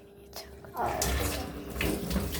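Tap water runs in a home kitchen while cut vegetables are washed, a broad, close rushing that swells and continues under a low voice.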